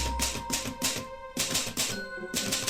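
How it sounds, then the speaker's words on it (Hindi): An old typewriter clacks in quick bursts of keystrokes, with short pauses between runs, fairly close and alone. "मेरे दादाजी के पास यही टाइपराइटर था।"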